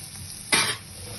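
Soybean chunks in spiced masala for Bengali soyabean kosha, a low sizzle cut by one short, sharp burst of stirring near the pan, brief and close, no talking.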